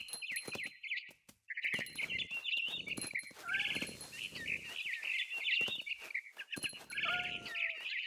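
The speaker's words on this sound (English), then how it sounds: "Then I heard chirping outside my window. It was a barn swallow going back to her nest." A barn swallow in the video game WROEF chirps in bright, high-pitched bursts, repeated calls broken by short pauses, with scattered thumps and other game sounds between them.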